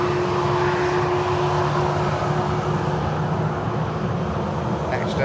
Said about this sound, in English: Here's the Ryanair which are arriving from Tirana.